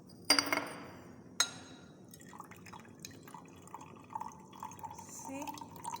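Water poured into glassware to wash a precipitate in a pharmacy lab, opening with sharp glass clinks and a brief splash, then light drips and trickling while a voice talks quietly.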